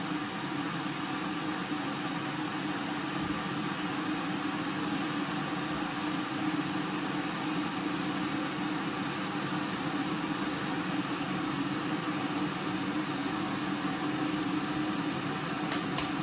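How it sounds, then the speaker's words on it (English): An electric kettle heats with a steady, even rushing hiss that holds constant throughout, with no voices. "The kettle will get louder and louder."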